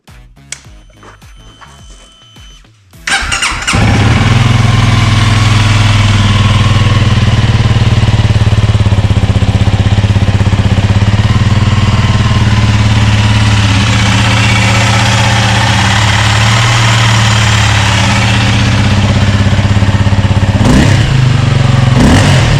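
A Honda CRF300L motorcycle engine with a Yoshimura RS-4 full exhaust starts after a few seconds of quiet handling noise, then idles steadily with a deep, throaty exhaust rumble, close and loud throughout.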